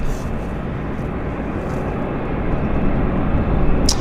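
An Air Canada Flight 301 airliner at Vancouver YVR airport produces a loud, steady, broad jet roar that holds for several seconds without letting up.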